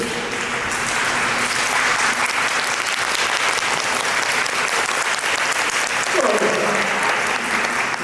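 Audience at an Indigenous food sovereignty panel clapping together on a count of three, a broad steady wash of applause that holds the whole time, with brief speech near the end.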